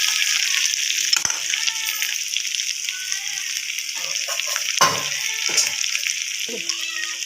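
Chicken sizzles and fries steadily in hot oil, with scattered scrapes of stirring and a brief clatter, a continuous close sizzle throughout.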